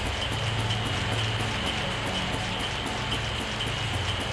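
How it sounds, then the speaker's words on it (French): Toxic rain pouring steadily in the video game Grandia HD Remaster, a dense, continuous hiss of falling drops at constant loudness alongside a low repeating background sound. "Attention, ici la pluie est toxique."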